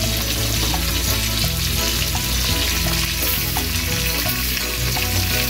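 Brazilian linguiça sausage fries in a pan for a Sunday country lunch with a loud, constant sizzle and crackle. Steady tonal hums and tones overlap the frying throughout, and no one speaks.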